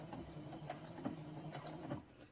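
A sewing machine stitching a tiny zigzag on a skirt: faint, steady mechanical ticking in a quick, even rhythm, close and alone.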